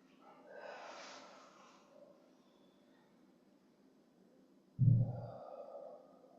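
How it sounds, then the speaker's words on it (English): Deep breaths taken during a guided meditation at a healing circle church service, a soft drawn-out inhale early on, then a louder, sharper exhale near the end, close and without talk. "Let's take some deep breaths."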